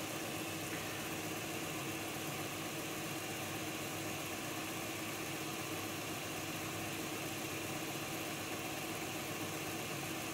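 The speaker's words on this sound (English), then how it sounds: "you can hear that motor in there now that is rock steady, that's not speeding up or slowing down" The motor of an Accurascale Class 55 Deltic model locomotive runs at a rock-steady speed, giving a continuous, even hum with no rise or fall and no voices.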